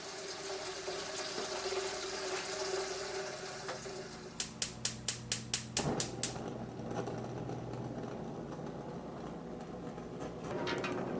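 Water runs steadily from a tap into a pot, with a brief burst of sharp clicks and a clunk midway, then the flow continues.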